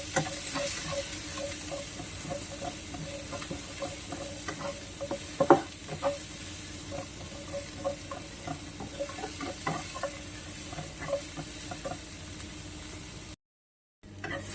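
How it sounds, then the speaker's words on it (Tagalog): Onion and ginger fry in oil in a pan as the base for a fish soup, a steady soft sizzle with occasional stirring clinks and scrapes, moderately close, no talking. "Lalagay natin yung onion and ginger."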